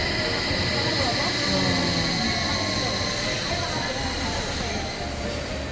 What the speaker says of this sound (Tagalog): Ayan ang train sa kabila.